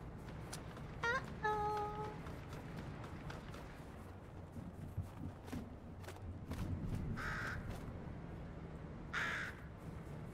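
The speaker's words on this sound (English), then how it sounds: "Hey, there's a crow." A crow caws in the Fortnite video game, several harsh calls spaced across the stretch over a steady low game background, with a few other brief sound effects.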